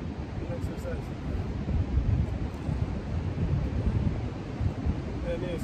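Cold wind outdoors buffets the microphone with a steady, rumbling roar that swells and eases in gusts and fills the whole stretch loudly.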